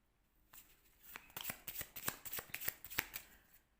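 A deck of oracle cards is shuffled up close, giving quick, crisp riffling taps in a brisk irregular rhythm, fairly quiet and with no talking.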